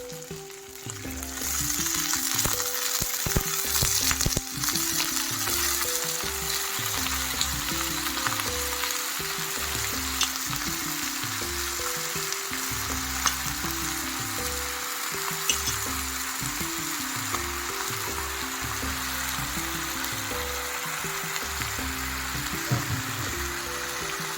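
Eggplant pieces fry in a ginger tempering, giving a loud, continuous close-up sizzle with occasional crackles, heard over a steady background of music throughout.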